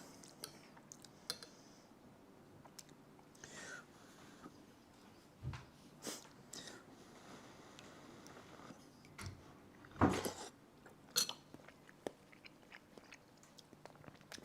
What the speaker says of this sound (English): Sorry for all my slurping sounds.